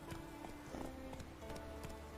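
Horses in The Witcher 3 moving along, with quiet, uneven hoof clops repeating over about two seconds, faint and at middle distance.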